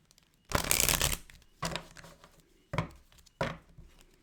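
Tarot cards are shuffled in four brisk bursts, the first long riffle followed by three shorter shuffles, close and crisp with quiet gaps between.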